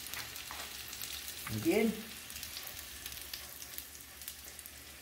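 Tortillas for tacos dorados fry in a pan of butter or oil, giving a faint steady sizzle with a small louder crackle midway and a brief spoken remark.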